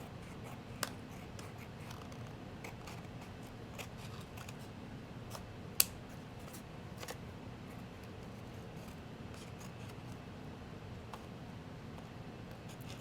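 Scissors trim excess paper off a small journal cover made of paper over cardboard, giving faint, quiet snips and light ticks over a low room hush, without speech.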